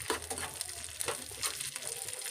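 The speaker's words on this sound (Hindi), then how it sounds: "तो इस काजू को हल्का सा हम भून लेंगे" Cashews lightly roasting in two spoons of ghee, giving a soft, steady sizzle with small crackling pops throughout.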